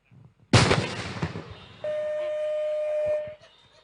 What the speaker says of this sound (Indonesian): ledakan yang diakibatkan kebocoran tangki penyimpanan gas klorin di PT Asahimas Chemical